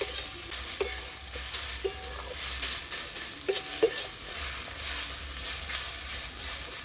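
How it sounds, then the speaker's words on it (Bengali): Potatoes frying in oil in a wok are stirred with a spatula, producing a soft constant sizzle broken by repeated scraping strokes in an irregular rhythm, close and clear with no talking. "কড়াইতে যে আলুটা আমি দিয়ে দিয়েছি, একটু ভালো করে আমি নেড়ে চেড়ে নিচ্ছি তেল দিয়ে।"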